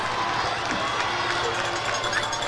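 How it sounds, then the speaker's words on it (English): High school football crowd at an Ashland vs Tri-Valley game, a broad, steady roar of cheering and noise from the stands, continuous and fairly loud with no clear breaks. "Arrows crowd starting to get into it"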